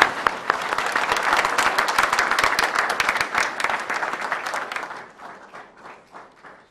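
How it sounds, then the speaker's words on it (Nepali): A congregation applauds to welcome Pastor C.P. Sharma at a Nepali church gathering, with a full burst of many hands clapping loudly that tapers into scattered, fading claps over the last seconds. "दाजुलाई हामी ताली बजाएर स्वागत गरौँ।"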